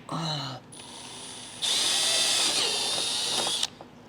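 A power drill runs holes for a 2022 Subaru BRZ/GR86 HKS body kit install, starting with a short burst, then a steady close whine for about two seconds before stopping.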